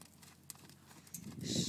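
A horse trots around an arena during a riding lesson, its faint hoofbeats coming as soft, spaced thuds that build into louder, busier noise toward the end.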